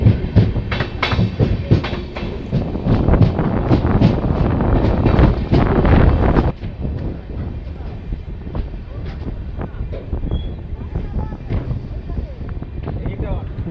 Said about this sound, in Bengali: ফাইনালি ট্রেন গঙ্গারামপুর স্টেশন ছেড়ে বেরিয়ে যাচ্ছে